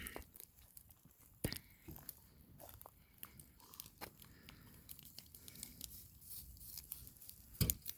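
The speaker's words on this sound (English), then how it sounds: "Got some community stick chewing." Several Cane Corso dogs gnaw on sticks outdoors beside burning stumps, with scattered close crunches, snaps and biting sounds over a low background rumble, including one sharp crack near the end.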